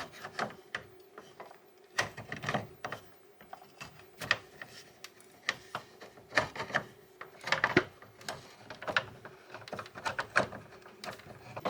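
Screw being unscrewed from a Mr Cool DIY mini split unit, a series of close, dry mechanical clicks and scraping ticks in irregular bursts, quiet between strokes with no talk.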